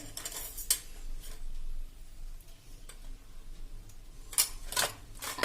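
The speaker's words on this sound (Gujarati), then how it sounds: "આપણે કન્ટિન્યુ એને આ રીતે હળદરથી આમ ચલાવતા રહેશું નાખીને" Puffed rice being stirred in a pan with turmeric, giving intermittent scraping and clinking bursts of a spoon against the metal, loud at the start and end with quieter rustling between.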